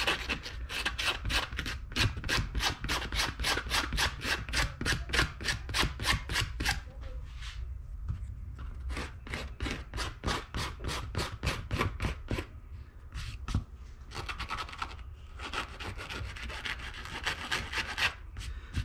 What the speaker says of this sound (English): we're going to scuff this tire up